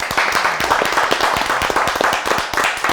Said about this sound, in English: Please give a round of applause for our guest judge today, Daniel.